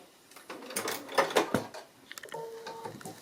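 A sewing machine doing free-motion stitching on an appliqué, running back over a stitched line, whirs in short, uneven bursts with brief pauses between runs.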